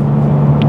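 A 2019 Mazda 3 driving on a test drive, heard from inside as a steady low engine and road rumble at moderate loudness, with no talk.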